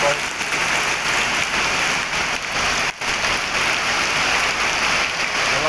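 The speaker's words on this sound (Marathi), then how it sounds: "किती जोराचा पाऊस आहे बघा असा पाऊस सकाळपासून चालू आहे" Heavy monsoon rain pours down steadily in Kerala, a dense continuous roar of water close by, with a brief dip near the middle.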